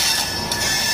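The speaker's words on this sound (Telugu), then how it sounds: "హంసాఫర్ ఎక్స్ప్రెస్ వస్తుంది." The Humsafar Express arrives at Tirupati railway station with a loud, steady rumble of rolling carriages and a high wheel squeal, heard close.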